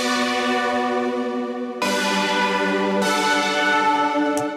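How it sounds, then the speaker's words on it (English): A bright, buzzy 80s synthwave polysynth saw chord preset, Polycity 84, holds a thick sustained chord that changes twice, loud and alone with no voices. "that very 80s sort of synthwave, vapor wavy kind of video gamey saws"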